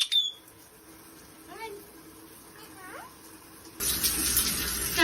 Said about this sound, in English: Girl want a shower?